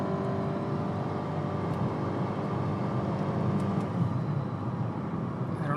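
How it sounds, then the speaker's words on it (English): Steady CVT drone from a 2014 Nissan Altima 2.5S four-cylinder on a test drive, a constant low engine hum with road noise heard from inside the cabin, unbroken throughout. "Look at that CVT drone,"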